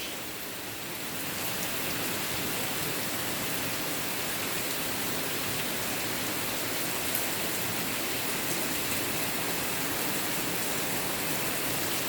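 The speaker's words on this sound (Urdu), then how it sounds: "آج کافی تیز بارش ہو رہی ہے" Heavy rain falls on a September morning in Lahore, a dense, even roar of drops on surfaces that holds steady throughout, close and loud with no voices.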